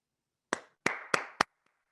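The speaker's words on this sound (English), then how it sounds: "Let's give Jay a round of applause" Four separate sharp claps ring out one after another in a quiet room, close by, at a remote online gathering with people on video call, with no voices.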